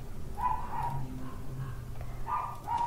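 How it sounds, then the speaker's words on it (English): A dog barking repeatedly in the background, muffled and distant, a few short barks over a steady room hum. "You might hear some barking in the background."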